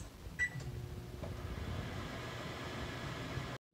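A microwave oven hums steadily with a low, even drone, preceded by a couple of short electronic keypad beeps; no popping is heard, and it cuts off abruptly at the end.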